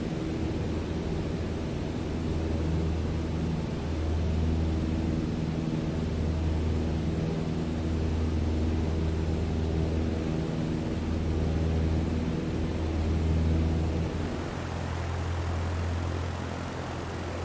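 An airplane takes off in Microsoft Flight Simulator, a steady, loud engine drone with a deep throbbing hum that holds throughout and eases slightly toward the end, with no voices.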